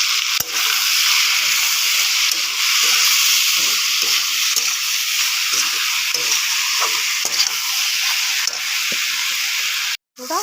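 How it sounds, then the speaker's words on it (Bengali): Potatoes and ridge gourd frying with ground dried chilli, garlic and onion paste in a pan, a steady loud sizzle with occasional soft stirring scrapes and a brief cutoff near the end. "পুরো আলু আর ঝিঙ্গাটা মশলাগুলো দিয়ে একটুখানি কষিয়ে নিচ্ছি।"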